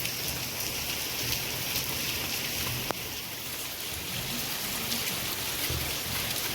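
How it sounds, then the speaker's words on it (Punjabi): Heavy rain pours down in a dense, unbroken hiss of drops drumming on surfaces, steady and close throughout, with one faint sharp knock partway through. "ਬਹੁਤ ਤੇਜ਼ ਮੀਂਹ ਆ ਰਿਹਾ ਦੇਖੋ"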